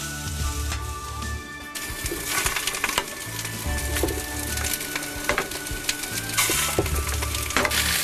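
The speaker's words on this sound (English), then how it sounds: "Fry the onions in butter until they're brown." Onions frying in butter in a pan, a steady close sizzle and crackle with bursts of stirring scrapes and louder pops, over a low background hum and faint birdsong.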